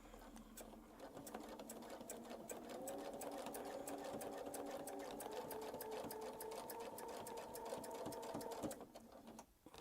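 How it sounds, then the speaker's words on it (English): A sewing machine stitches along a Westalee curved ruler template in a close, continuous needle-driven hum with fast rhythmic ticking, running steadily for several seconds before stopping near the end. "And we'll sew back to the middle."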